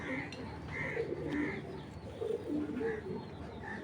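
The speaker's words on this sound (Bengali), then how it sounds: "ইয়াং কবুতর" A young racing pigeon coos in soft repeated low calls, close and fairly quiet, with faint background noise.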